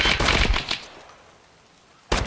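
Automatic gunfire in Escape From Tarkov: a loud, rapid burst of shots for nearly a second, then a quieter lull, and a second sharp burst near the end.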